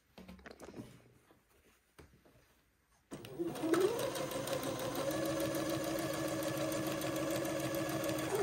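Sewing machine running steadily along a quarter-inch seam at a garment's leg opening, a loud continuous hum with a rhythmic stitching pattern that starts after a few seconds of quiet handling noises.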